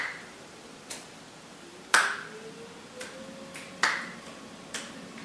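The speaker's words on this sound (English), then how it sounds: "start snapping your fingers." Finger snaps from a group at a meditation session, spaced at an irregular, unhurried pace, each sharp crack standing alone against near silence, some nearer and louder than others.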